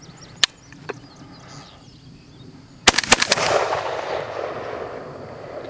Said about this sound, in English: That was the last two shots.